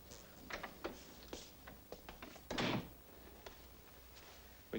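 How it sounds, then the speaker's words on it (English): A door is shut indoors, a short burst of rattling and clicking knocks followed by one louder thump of the closing door, amid quieter scattered handling noises. "Close the door."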